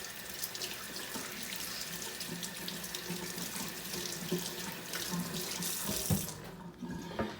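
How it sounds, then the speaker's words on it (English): Hands are rinsed under a running kitchen tap after handling a mesquite-smoked Boston butt, a steady close splashing stream that cuts off near the end. "now a hand rinse."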